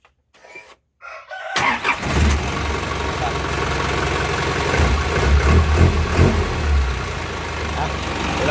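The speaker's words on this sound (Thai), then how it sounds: "เป็นเครื่องยนต์ 4HF แบบ4สูบ 120แรงม้า" An Isuzu NPR truck's 120-horsepower 4HF four-cylinder engine cranks briefly, catches and roars to life, then settles into a loud, steady idle close by.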